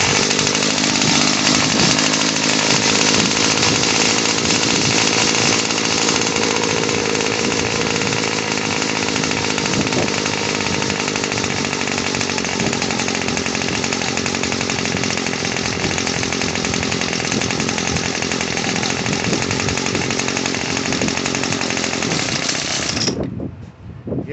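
The small two-stroke engine of a Bolens BL160 string trimmer runs loud and steady for the whole clip, holding an even buzzing drone during carburetor idle adjustment. It cuts off abruptly near the end.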